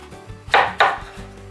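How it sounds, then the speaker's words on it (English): A knife slices down through a peeled green papaya on a board, two sharp, close chopping knocks in quick succession, with no talking during the cuts. "now we're gonna cut it in half down the middle"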